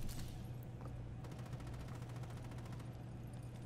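Rapid gunfire in a first-person shooter video game, a quiet, fast string of evenly spaced shots rattling over a steady low hum, with no talking.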